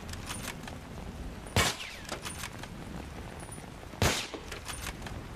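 Gunfire in the Battlefield 3 video game: two sharp, separate shots about two seconds apart, standing out over a low, steady game background.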